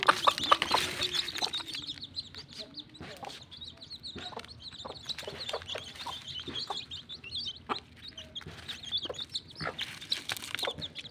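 Young chicks kept warm in winter and given water to drink peep continuously close by, with a hen's low clucks mixed in and small tapping sounds throughout.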